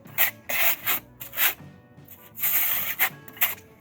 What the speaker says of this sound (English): want to key in this mortar